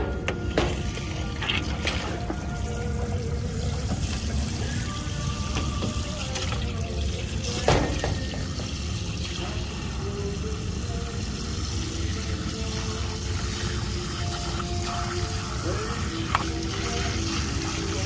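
Water drains steadily from a clogged frozen food coffin case, a continuous close trickling and gurgling wash with occasional clunks, lasting throughout without talk.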